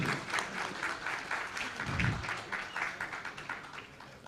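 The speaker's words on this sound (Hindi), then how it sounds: "जोरदार तालियां बजनी चाहिए हमारे इन सभी मेहमानों के लिए" Loud, sustained applause from an audience greeting guests at a live Hindi-language panel event on religion and politics, a dense steady wash of many hands clapping for over four seconds.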